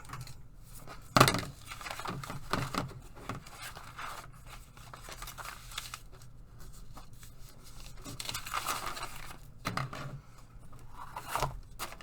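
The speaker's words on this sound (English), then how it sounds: "I'll tear the bits, I'll tear some parts off maybe, especially probably this edge" Paper is torn and handled while a junk journal is wrapped like a present: scattered rips, crinkles and light tapping, with one sharp louder tear near the start, all close and without talk.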